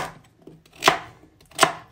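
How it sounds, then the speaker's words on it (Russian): Two crisp knife chops through raw pumpkin on a cutting board, each a sharp close thud spaced under a second apart, with quiet pauses and no talk. "Режем кусочками для того, чтобы можно было пропустить через мясорубку."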